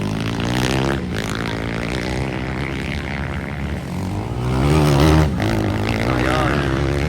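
A motorcycle engine drones loudly and close throughout a local enduro race heat, its steady tone shifting in pitch and swelling briefly as it revs, with no talk heard over it.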